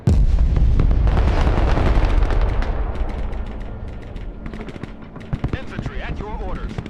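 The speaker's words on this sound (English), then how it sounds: "Artillery ready to fire, sir." Battlefield barrage in the Broken Arrow war game: dense artillery and gunfire booming continuously, loud and heavy, thinning into scattered sharp shots and bursts toward the end.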